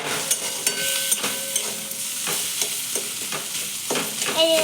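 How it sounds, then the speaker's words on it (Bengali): A spoon scrapes and stirs food in a frying pan in a village kitchen after salt and turmeric go in, with repeated clattering strokes over a steady sizzle, close and fairly loud. "এই যে এবার আর একটু নেড়ে নিচ্ছে।"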